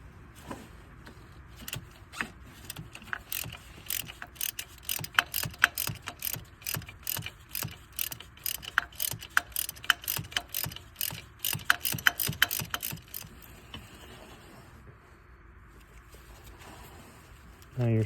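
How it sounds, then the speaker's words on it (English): A 3/8-inch drive ratchet on a six-inch extension clicks steadily while turning a transmission bolt on a 2005–10 Chevrolet Cobalt during a clutch replacement, with rapid bursts of ratcheting close by and no talk. "So I'm just on that with a 3/8 drive ratchet with about a 6-inch extension"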